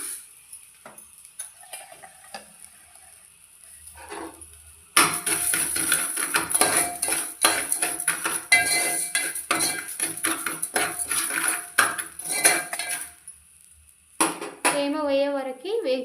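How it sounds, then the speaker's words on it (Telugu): Coarse rock salt is dry-roasted in a pan, scraped and stirred with a utensil in dense gritty clatter and scratching that starts abruptly after a few quiet seconds, mostly alone with brief pauses. "ఉప్పునైతే చూడండి ఇలా తేమ వేయే వరకు వేయించుకుంటే సరిపోతుంది"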